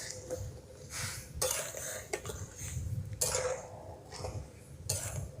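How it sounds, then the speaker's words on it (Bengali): A spoon stirs sugar and water in a pot over the heat for coconut laddu syrup, giving repeated scraping and clinking strokes in uneven bursts, close and fairly quiet. "এবার আমি চিনিটাকে গলে যাওয়া পর্যন্ত নাড়তে থাকব।"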